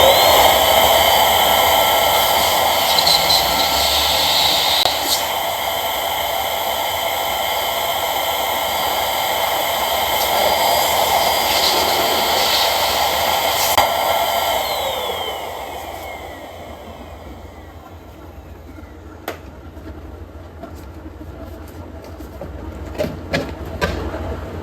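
A steady mechanical hiss and whine, like a pump or blower filling balloons, runs loud for about fifteen seconds and then cuts out, leaving faint clicks and rustles.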